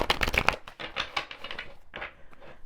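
Rapid papery riffling as a deck of tarot cards is shuffled close by, in quick bursts with brief pauses, no voices.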